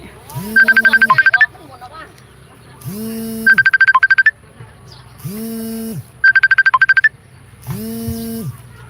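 A phone rings with a repeating electronic ringtone, a warbling trill alternating with a lower tone in a steady on-off pattern, loud and close, about five bursts in a row.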